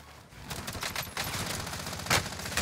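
Pistol shots in an online shooter game, a quick series of sharp cracks over a few seconds at moderate volume with one louder shot near the end, no talking.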